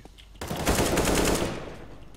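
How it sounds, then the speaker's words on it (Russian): Rapid automatic gunfire in a video game, a loud sustained burst of shots that starts abruptly and rattles on for about a second before trailing off. "Пушки."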